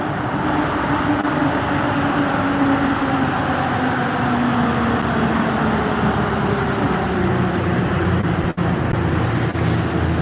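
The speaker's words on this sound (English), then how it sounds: "Here comes a big truck." A big truck passes through a mountain road tunnel in Japan, giving a sustained echoing low roar over steady traffic hum with a slowly shifting engine drone and a brief sharp click near the end.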